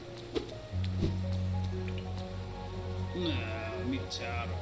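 Water splashes and drips in the Hollow Knight video game, soft wet squishing and trickling sounds under a steady low game music hum, with a character voice or talk over them.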